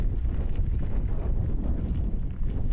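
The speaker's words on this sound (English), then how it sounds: "the wind is actually blowing me at like 5 miles an hour" Strong wind roars steadily across the microphone during a gravel bike ride in nasty weather, a continuous low buffeting rumble with no other sounds.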